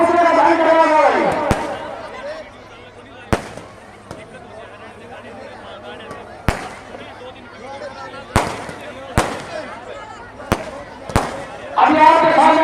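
Fireworks burst during a Ravan effigy burning in Bond village, Dadri district. Sharp bangs land at irregular intervals over a murmuring outdoor crowd, and someone speaks through parts of it.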